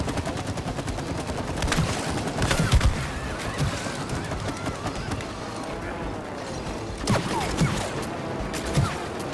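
Gunfire in the video game It Takes Two: repeated bursts of shots over busy game sounds, with occasional honking calls and a voice talking in places.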